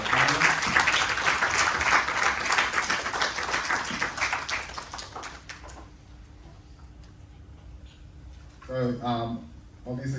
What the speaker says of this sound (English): Can you please give a warm round of applause to our panelists?